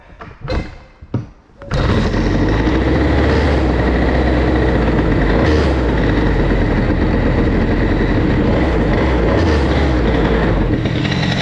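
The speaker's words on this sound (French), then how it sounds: "déjà faire chauffer un peu le moteur" A small Airsal XT 77 moped engine catches after a couple of sputtering start attempts, then runs steadily and loudly at a fast idle while warming up, close to the microphone.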